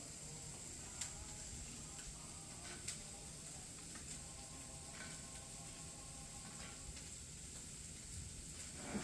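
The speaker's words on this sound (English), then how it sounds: "let's check on our onions that I have frying over here in olive" Faint, steady sizzling of onions frying in olive oil, a soft continuous hiss with occasional small pops and crackles.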